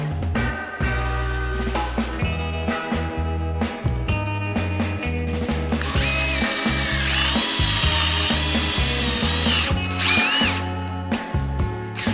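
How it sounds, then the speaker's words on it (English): A power drill whirs in repeated short bursts, stopping and starting as it pre-drills wood for a RAV4 bed platform, loud and close with a rising whine near the end. "I have to clamp it, pre-drill it"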